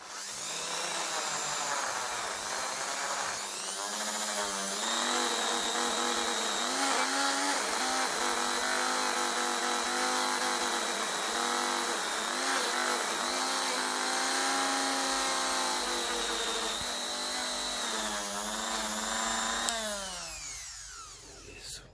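A power tool spins a wire brush against a Lucas starter from a 1953 Ferguson 20 diesel tractor, a loud, continuous high whine that wavers in pitch as the bristles rub, then winds down at the end.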